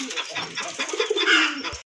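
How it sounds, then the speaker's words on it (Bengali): A pair of old-breed Golla pigeons, a local deshi type, coo close by. The sound is a short run of soft, throaty, rolling coos that swells slightly before stopping abruptly. "এক জোড়া গোল্লা কবুতর, পুরানো জাতের গোল্লা কবুতর"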